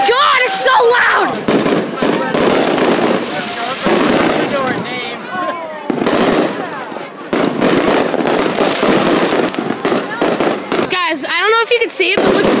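Fireworks burst loudly and repeatedly at close range during a July celebration, with dense overlapping crackles and booms and a few brief gaps, while people talk and shout throughout.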